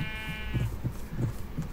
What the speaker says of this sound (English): A handful of sheep.